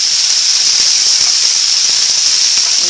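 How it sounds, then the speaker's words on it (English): Bean sprouts and tofu hiss loudly in hot olive oil for a vegetarian stir fry, a dense, constant sizzle that stays close and steady throughout. "we're going to use the olive oil, and what we're going to do is go ahead and put our bean sprout with the tofu"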